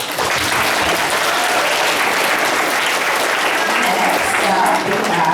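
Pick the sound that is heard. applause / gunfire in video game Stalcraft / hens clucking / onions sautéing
applause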